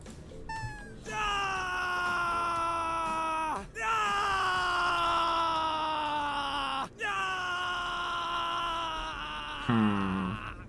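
Jake, a survivor in the horror game Dead by Daylight, screams in three long, strained, sustained yells, each lasting about three seconds with brief breaks between, loud and raw, ending in a falling groan.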